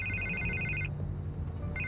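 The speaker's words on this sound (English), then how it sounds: "I can't get the phone to stop ringing." A telephone in Batman: The Telltale Series rings in repeated electronic trilling bursts, stopping midway and starting again near the end, over a low game backdrop.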